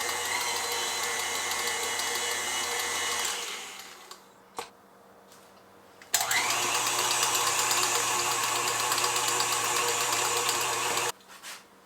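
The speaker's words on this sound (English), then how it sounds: "I did switch from my paddle, now that they're more broken up, to my whisk to see if I couldn't get these a little less lumpy." A stand mixer fitted with a whisk beats broken-up potatoes for twice baked potatoes: a steady high motor whir that stops briefly with a couple of knocks, then starts again and runs on loudly.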